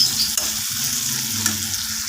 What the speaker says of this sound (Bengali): এবার আমি ভেজে নিচ্ছি।